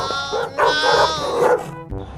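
A dog gives loud, close, whining barks and yips while chasing a person outdoors, in a few drawn-out bursts with no talking over them.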